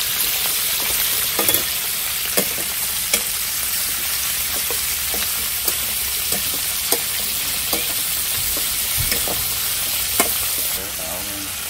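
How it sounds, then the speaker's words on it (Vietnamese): Frog pieces fry in hot oil with garlic and onion, a loud steady sizzle with occasional pops and stirring clicks close by. "Giờ ếch thấm rồi cả nhà ơi, với dầu mình cũng sôi, giờ mình cho vô mình chiên luôn."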